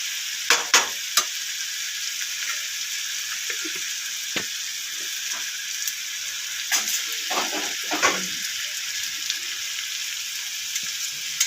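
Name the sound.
frying gram flour in ghee with garlic and chili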